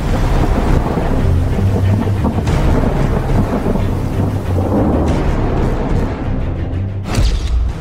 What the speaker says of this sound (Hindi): भारी बारिश से शहर हुआ पानी पानी,